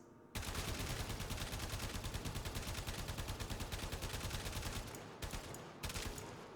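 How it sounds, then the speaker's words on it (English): Rapid automatic gunfire from a Braton rifle in the video game Warframe rattles in a sustained, evenly spaced burst, pausing briefly before resuming in shorter volleys. "I want you guys to listen to the sound this weapon makes."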